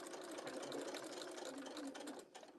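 A sewing machine stitches a quarter-inch seam down a teacup pouch in one continuous, fast, close-up whirring run that slows and stops at the end, with no talking.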